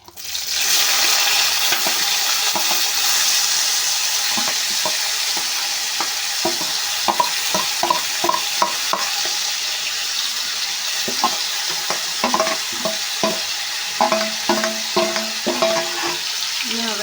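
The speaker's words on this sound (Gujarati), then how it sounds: "હવે આપણી હિંગ ગરમ થઈ ગઈ છે હવે આપણે મરચાં આદુ લસણ અને ટમેટા આમાં એડ કરી દઈશું" Chilies, ginger, garlic and tomato drop into hot asafoetida-flavored oil for a Gujarati methi bhaji, making a loud sustained sizzle, then a run of close stirring scrapes and clatters against the pan.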